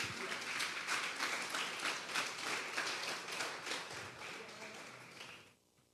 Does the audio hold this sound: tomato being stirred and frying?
no